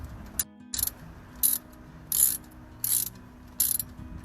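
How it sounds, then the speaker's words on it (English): A socket wrench ratchets while tightening a brake caliper bolt during a brake pad replacement, giving about six short, sharp clicking bursts in an even rhythm at close range over a faint background hum. "if it's a socket wrench, it is going to the right to tighten it"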